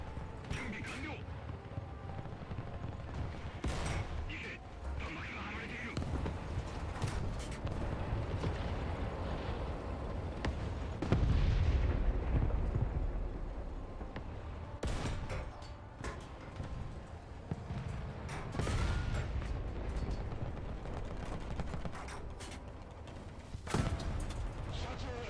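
Gunfire aimed at the player's boat during a War Thunder naval battle, heard as bursts and thuds over a steady engine and sea din, with a louder impact cluster around the middle and spoken commentary throughout.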